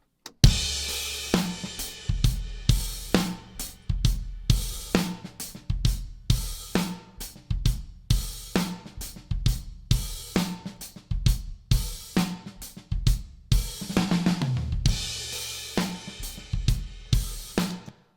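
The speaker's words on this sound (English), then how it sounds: "with it full wet, it takes away a lot of the attack of the snare and some of the kick." Full drum kit groove run fully wet through an Inward Connections Brute II limiter, with steady kick and snare hits whose attack sounds flattened and squashed, loud and continuous with no talking.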